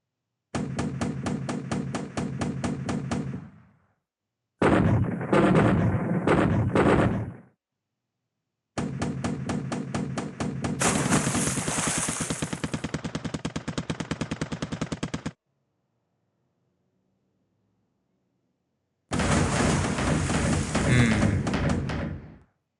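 Rapid bursts of gunfire ring out in the War in the Pacific naval war game as bombers attack destroyers, coming in several long rattling volleys separated by short silences.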